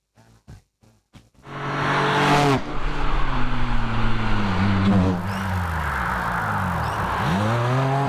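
A race car climbs a hillclimb course, engine rising from a few sharp blips into a loud sustained roar with gear changes and tire squeal, then easing slightly as it pulls away.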